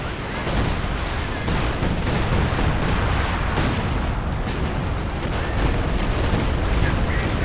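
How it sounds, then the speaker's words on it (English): Dense, continuous battle din from the real-time strategy game Company of Heroes 2, with artillery booms and rattling gunfire layered into a loud, unbroken roar; a voice talks faintly underneath. "Artillery flying every which direction"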